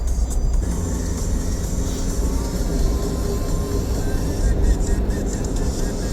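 Steady city road traffic on a street in Gurgaon, Delhi NCR, heard from inside a small Suzuki Jimny SUV: a continuous low rumble of engines and passing vehicles with faint hiss, unbroken throughout.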